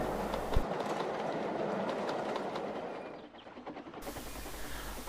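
A train rolling along rough track, wagons rocking with a steady rumbling clatter and rhythmic clicks, close and loud, easing briefly before surging back up.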